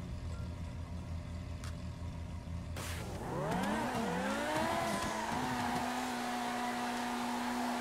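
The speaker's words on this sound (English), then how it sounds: "That Lambo was loud." A Lamborghini engine in the video game GTA 5 revs up with rising and falling pitch during a race, then holds a steady high drone, over a constant background hum.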